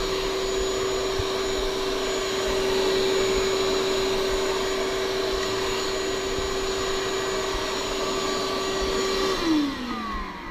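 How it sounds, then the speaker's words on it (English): A vacuum cleaner drones steadily at close range with a strong whine, then winds down as it is switched off near the end. "Use the vacuum."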